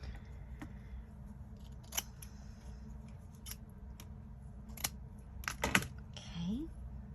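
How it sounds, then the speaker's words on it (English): Big scissors snip paper scraps for shabby chic craft clusters, a few sharp, close cuts scattered over quiet room tone, with faint rustling of paper between them. "Get my big scissors out for that."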